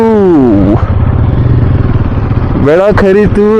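Motorcycle engine idling and revving as a long ride from Bangalore toward Maharashtra begins, a steady mid-pitched drone with a throttle blip near the end, close and loud, with a voice heard over it.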